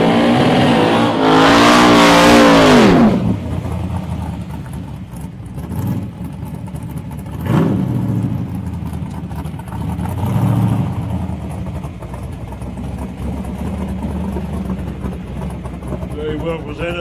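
A rising high engine whine from a drag racer at a street drags event in Casterton, followed by quieter engine rumble and revs, with an announcer talking throughout.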